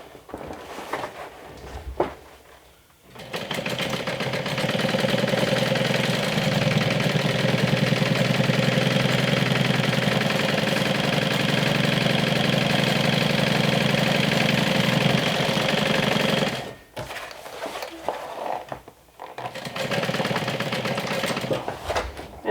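A sewing machine topstitches a seam on a medium crossbody tote, a loud continuous whirring drone held for about thirteen seconds, with shorter bursts of running before and after.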